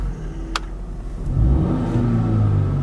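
A 2016 Volvo XC60 T6 AWD engine revved from inside the cabin, rising from a low idle rumble into a louder, sustained growl as the throttle is pressed.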